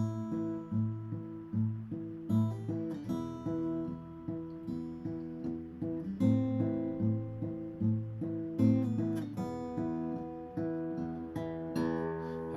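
Fingerpicked acoustic guitar in Travis picking style with hammer-ons, a steady alternating bass and melody notes ringing on top, playing alone at a relaxed, even pace.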